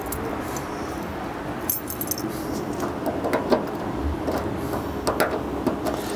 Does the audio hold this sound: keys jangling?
yes